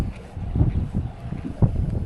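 Strong wind buffets the microphone on a small fishing boat out on a lake, a steady low rumble with gusty swells and a couple of sharper blasts.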